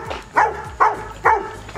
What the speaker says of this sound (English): stop making him bark